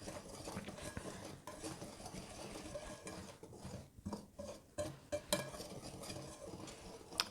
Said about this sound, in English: I'm going to stir all of that